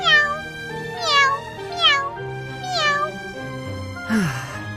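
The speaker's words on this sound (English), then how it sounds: "Well, this cat's happy, so I'll let you off easy just this once." A cat in the video game Fire Emblem Three Houses meows repeatedly, about five clear, close, sing-song meows at an unhurried pace with a final rising-falling cry, heard alone without talk.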